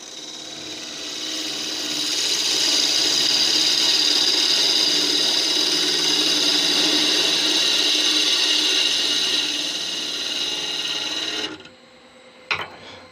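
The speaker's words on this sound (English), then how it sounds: "So just hogging away wood at the moment, don't care about finished cuts or anything else." A gouge hogs wood off an end grain bowl spinning on a wood lathe, a steady loud scraping hiss of cutting that holds for about ten seconds before the tool lifts away and the noise drops.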